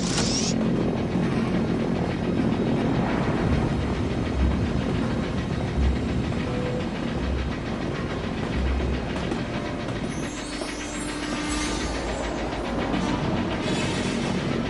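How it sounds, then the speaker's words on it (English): A train rolls past steadily for the whole stretch, a dense, loud rumble of wheels on rails with faint rhythmic clicking beneath, staying close and constant without fading. "There's that blasted train at last."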